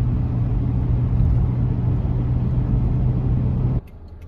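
A car drives along a road on a foggy early morning, giving a steady, close engine and road rumble that cuts off abruptly near the end, leaving quieter background noise.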